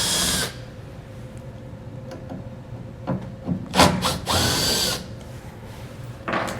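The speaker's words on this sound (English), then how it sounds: "You'll use a T15 Torx to remove them." Power driver with a T15 Torx bit backing out taillight screws on a 2018 GMC; a short close whir at the start, small scraping and handling noises, then a louder driver burst near the end.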